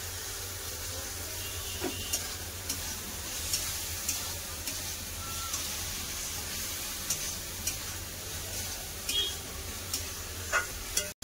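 Ridge gourd and potato fry with poppy seed paste in a pan, giving a faint steady sizzle and hiss with occasional soft ticks and stirring scrapes, quiet and continuous.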